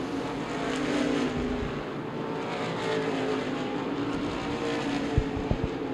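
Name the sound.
modified race cars racing at Lucas Oil Raceway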